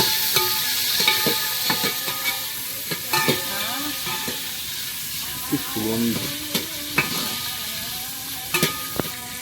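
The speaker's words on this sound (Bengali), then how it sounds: "কাজুটা একটু ভেজে নিয়ে এবার কিশমিশ" Cashews and raisins fry in a pan, a continuous loud sizzle broken by repeated spatula scrapes and clanks against the metal as they are stirred, close up.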